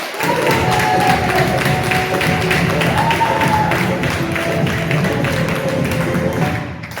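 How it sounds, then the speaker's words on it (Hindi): Seminar audience clapping in a dense, continuous burst throughout, loud and close with rhythmic pulses, accompanied by background music, with no speech over it. "जोरदार तालियों पर, जोरदार तालियां।"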